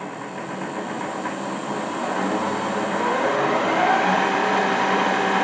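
A steady mechanical whir and drone of an LT230 gearbox running on a test bench, gradually getting slightly louder as it revs up, with a faint high whine on top.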